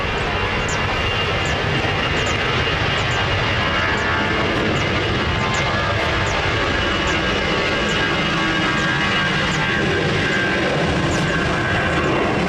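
An easyJet airliner takes off from runway 20 at Lisbon Airport, a loud, sustained jet engine roar that stays steady throughout and carries no speech.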